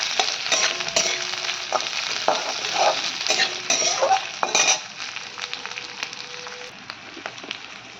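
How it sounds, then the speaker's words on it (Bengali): Onion tossed into a pan for chilli chicken gravy and stirred with a metal spatula: repeated scraping and clinking strokes over a continuous sizzle, then quieter frying alone. "এবার দিয়ে দেবো পেঁয়াজটা। একটু নেড়ে চেড়ে নেবো হালকা।"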